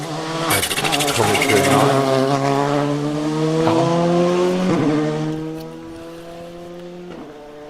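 Ulster Rally car passing close on a closed stage near Skelton's Cut, engine roaring loud with rising and falling revs and gear shifts, then fading into the distance; a voice speaks briefly over it.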